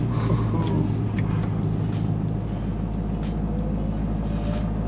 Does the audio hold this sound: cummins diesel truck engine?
yes